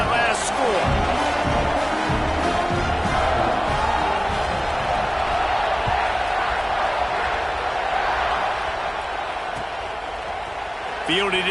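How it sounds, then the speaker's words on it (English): A dense football stadium crowd roars and buzzes after a touchdown, a broad, sustained wall of cheering with an announcer talking over it. "this crowd is buzzing after that last score"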